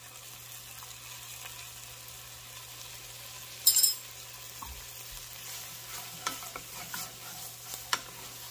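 Onions and garlic sauté in a pan on a lowered burner for hot dog chili, giving a soft, steady sizzle with a few light utensil clinks.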